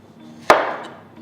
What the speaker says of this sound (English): For the samosa filling, I have taken 3 medium-sized potatoes, cut them into half